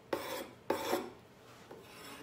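A putty knife scrapes across painted furniture to blend and distress the finish, giving three short raspy strokes, the first two strong and close, the last fainter.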